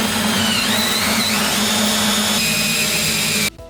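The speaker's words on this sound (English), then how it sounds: "Using a large diameter bit or a hole saw like the one we have here, cut a hole on the inside edge of this curve." A hole saw boring through a bathroom countertop for a semi-recessed sink, a loud steady whine of the drill motor with a low grinding hum running for about three and a half seconds before stopping abruptly.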